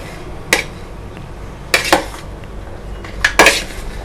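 Boiled sundal is stirred in a metal vessel, giving a few sharp, bright clanks of a spoon against metal, one alone and then in quick pairs, over a quiet room.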